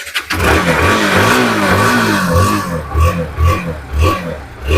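A motorbike engine at a bike showroom fires up and idles loudly and close, with uneven throttle blips and a rough pulsing rumble, no voices.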